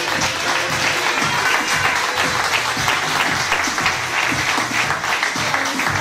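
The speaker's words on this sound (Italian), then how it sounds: "Applausi." The audience at a WFF-Nabba bodybuilding event in Sestri Levante applauds in a full, steady round of many hands that stays loud from start to finish.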